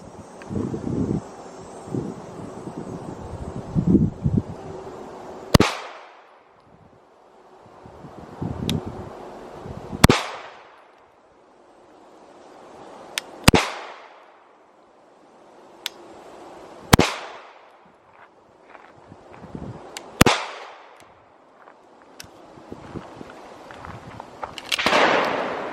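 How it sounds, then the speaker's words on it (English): Walther PDP F-Series handgun fired at an outdoor range: about six sharp, loud shots spaced several seconds apart, each ringing out briefly, with wind and rustling between them. "First shots I'm firing out of this."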